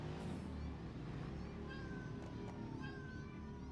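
Cats meow in short, rising cries, a few distinct calls overlapping a steady, fairly loud background hum, with no talking.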